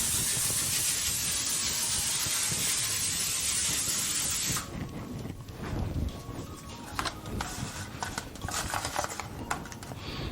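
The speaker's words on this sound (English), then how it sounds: "I'm going to just go ahead and spray them with this butter flavor cooking spray" A steady, loud hiss of butter-flavor cooking spray from an aerosol can runs for several seconds, then cuts off, leaving quieter clicks and handling noises.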